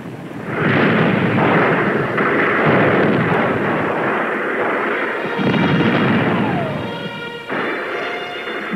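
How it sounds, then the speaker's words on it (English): French cannon artillery fire at the Battle of Borodino in Russia, rendered as a loud, dense roar of booming shots and rumbling blasts that runs continuously throughout, close and overwhelming. "the French cannon opened fire and the killing began"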